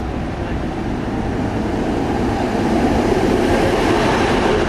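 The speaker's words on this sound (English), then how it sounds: "Gliding quietly along the opposite bank of the river are modern yellow and white electric trams." A modern electric tram in Budapest rolls steadily along rails, a continuous low rumble with a soft mechanical hum, close and even throughout.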